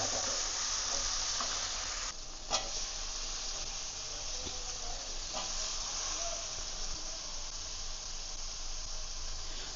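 Finely chopped bottle gourd sizzles in a frying pan with sautéed onion, a steady close frying hiss with a couple of brief clatters as it goes in.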